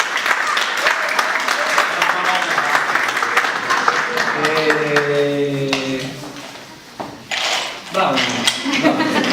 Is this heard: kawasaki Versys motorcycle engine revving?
no